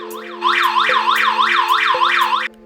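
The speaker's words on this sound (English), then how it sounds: "the detector emits an alarm sound and transmits a wireless signal to the compatible alarm system" A PNI HS110 wireless gas sensor sounds its electronic alarm: a loud, siren-like warbling tone sweeping up and down in rapid regular cycles over a steady buzz, then cutting off abruptly.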